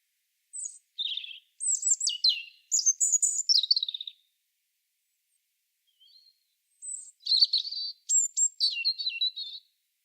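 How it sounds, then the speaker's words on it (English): A European robin sings in clear, high, warbling phrases, two bursts of rapid trills and twittering notes separated by a pause, close and alone with no other sound. "The robin is Britain's favourite bird."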